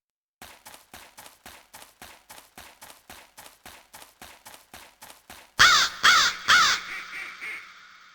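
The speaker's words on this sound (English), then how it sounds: "Crows are big and black and make a loud cawing sound." In a PlayStation game, a long run of evenly spaced soft clicks or taps, then four loud harsh crow caws in quick succession, the last ones fading out.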